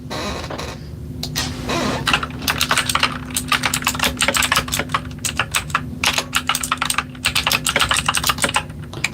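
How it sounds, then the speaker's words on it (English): Rapid, uneven clicking of fingers typing on a computer keyboard, close by, steady bursts of keystrokes with a faint low hum underneath. "here I was just typing a message"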